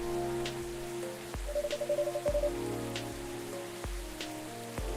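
Steady soft rain falls in the Coffee Talk video game, a quiet even patter with occasional sharp drips and faint tonal chimes over it, no voices.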